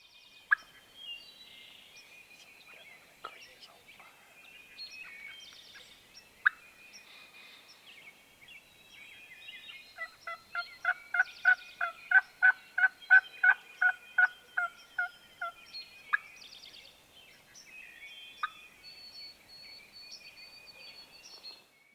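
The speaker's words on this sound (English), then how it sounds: "as it gets daylight, we got birds gobbling. And sure enough, we got one gobbling fairly close in the wood block in front of us" Wild turkeys gobble in Ohio woods at daybreak, one bird close in the wood block ahead and others farther off. A loud run of rapid gobbling rises in the middle over a steady chorus of distant songbirds.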